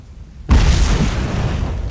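A grenade blast in Fable 3 hits suddenly after a quiet moment, a single loud, close boom with a deep low rumble that decays slowly over the next second and a half.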